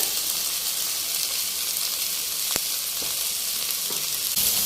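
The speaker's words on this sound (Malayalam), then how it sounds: "ഇതിൻ്റെ വെള്ളമൊക്കെ നന്നായിട്ട് വറ്റി നല്ല ഡ്രൈ ആവുന്നത് വരെ നമ്മൾ ഫ്രൈ ചെയ്തെടുക്കണം." Soya chunks frying in a pan for a vegetable fry, a steady close sizzle that holds throughout with a few small pops and stirring clicks.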